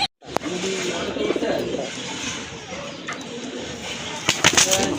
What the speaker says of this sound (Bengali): আরেক জোড়া কবুতর দেখেন আপনার, দেশি কবুতর